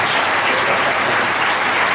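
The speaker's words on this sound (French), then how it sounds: "Applaudissez encore pour le Seigneur." A church congregation bursts into loud, sustained applause for the Lord, a thick and constant roar of many hands clapping close by with no voices above it.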